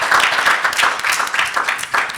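Audience applause at a real estate finance session of a Build BLK Cincy 2024 conference: dense, steady clapping from many hands, loud and continuous throughout with no talk over it.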